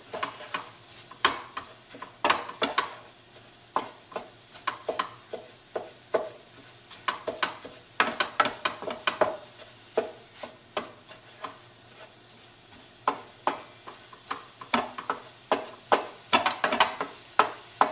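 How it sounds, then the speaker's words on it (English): A utensil stirs a healthy Mexican filling in a hot pan, scraping in repeated bursts of clatter and rasp. Steady frying sizzle runs underneath, and no voices are heard. "Stir to incorporate."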